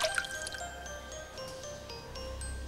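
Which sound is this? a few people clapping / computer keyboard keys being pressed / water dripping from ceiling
water dripping from ceiling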